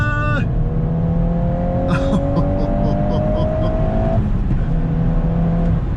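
A 2022 Volkswagen Golf R engine, loud and close inside the cabin, blips and revs with a rising then falling whine through a heel-toe downshift under hard driving, under a continuous road and engine drone.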